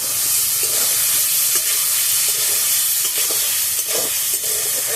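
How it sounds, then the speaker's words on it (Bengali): Split green chillies go into tomatoes frying in a pan with cauliflower, giving a loud, steady sizzle and hiss with occasional stirring scrapes throughout. "আমি চেরা কাঁচা লঙ্কা গুলো টমেটোর মধ্যে দিয়ে দিচ্ছি।"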